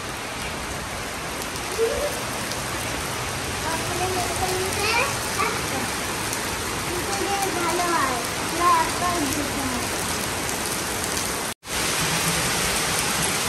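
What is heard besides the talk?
heavy rain falling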